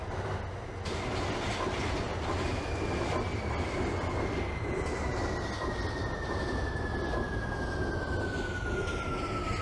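An R46 subway train on the C line in the OpenBVE simulator rumbles steadily along the track, a long high wheel squeal sliding slowly downward over the roar, loud and continuous.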